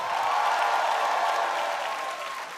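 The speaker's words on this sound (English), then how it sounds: "make some noise." A comedy club crowd in Brooklyn cheers and applauds loudly, a thick continuous roar of clapping and shouting that fills the room and tapers slightly toward the end.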